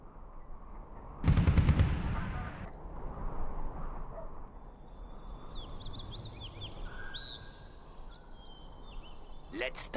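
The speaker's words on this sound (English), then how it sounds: "Inferno cannons loaded." A loud, booming burst of inferno cannon artillery fire in Command & Conquer Generals rumbles for about a second and a half, followed by chirping insect-like game ambience and a low background drone.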